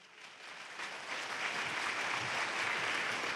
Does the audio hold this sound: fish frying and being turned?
no